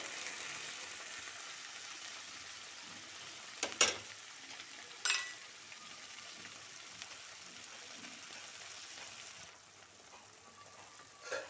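Papad curry simmering in oil in a pan, with a steady soft frying hiss throughout and two brief louder clatters near the middle, fairly quiet and without any talk.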